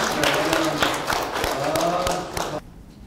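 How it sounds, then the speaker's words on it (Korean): Audience applauding at a poetry book launch held in a hotel in Wonju, a dense wash of clapping that ends abruptly near the close, with a voice briefly heard over it. "박수 한번 쳐주시고요."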